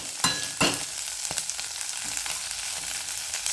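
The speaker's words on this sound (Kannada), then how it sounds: "ಇದು ಎಣ್ಣೆ ಒಳಗೆ ಅದು ಈ ಥರ ಎಲ್ಲ ಅರಳುಕೊಳ್ಳುತ್ತೆ ಫ್ರೈ ಆಗುತ್ತೆ" Curd-soaked green chillies frying in hot oil, a close, steady sizzle with a couple of sharp crackles or stirring knocks early on, no talk.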